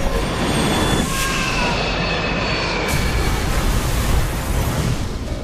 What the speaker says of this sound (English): A Boeing 727 is headed for the ground.